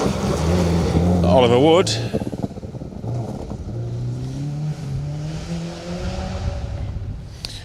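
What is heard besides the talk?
Subaru Impreza rally car driving on stage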